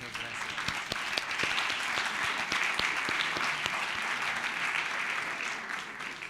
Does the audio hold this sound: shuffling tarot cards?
no